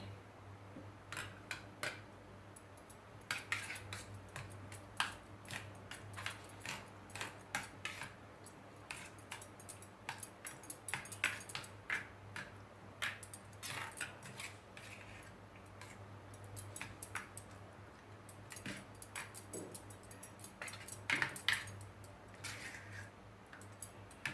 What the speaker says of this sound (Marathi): हळद पावडर घालते धना पावडर घालते ह्याला मी मिक्स करून घेते